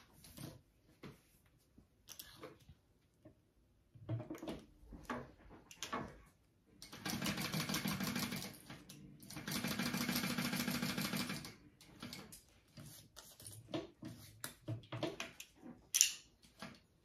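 A sewing machine stitches along the top and side of a fabric piece for a Fold N Zip Petite backpack, running in a few short bursts and one longer steady run, close and fairly loud with quiet pauses between.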